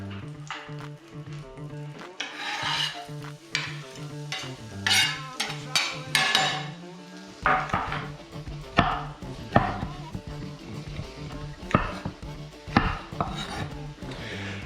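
A knife chops garlic on a cutting board beside a pan of butter and olive oil, giving a run of sharp, rhythmic strikes, loud and close, over a soft sizzle and background music.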